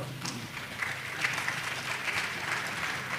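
An audience at a university convocation ceremony applauds students being recognized, steady sustained clapping from a large crowd filling the hall at an even level throughout.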